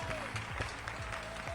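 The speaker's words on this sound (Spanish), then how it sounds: "Fuerte el aplauso" Audience applause at a panel discussion event in Argentina, a steady wash of clapping from the crowd, fairly faint and continuous throughout with no one speaking.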